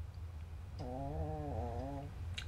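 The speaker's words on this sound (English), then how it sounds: "My dogs are snoring." Toby, a pet dog, snores in the background: one drawn-out, whistly, tonal breath lasting just over a second, over a steady low room hum.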